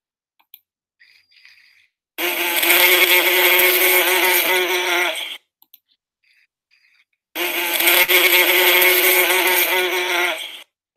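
A motorized robot bee pollinator buzzes in two bursts of about three seconds each, a harsh, steady, close mechanical whine, separated by near silence with faint clicks.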